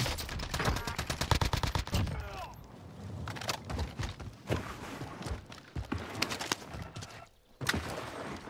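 Video game gunfire from a Milano class gun on the Fortune's Keep map. A fast, dense burst of automatic shots opens the clip, followed by scattered single shots and short bursts among other game sounds.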